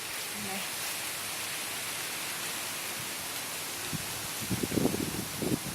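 Strong wind blowing steadily around a house in Delaware on a sunless day, a constant broad rushing roar, with a few brief murmurs of a voice near the end.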